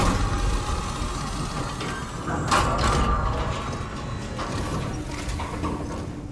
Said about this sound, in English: Now this should get the chiral printer up and working now.